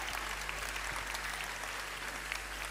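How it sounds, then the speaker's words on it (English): A church congregation claps in a continuous, even wash of applause, somewhat distant and low in level, with a steady hum underneath. "Give the Lord a good clap offering,"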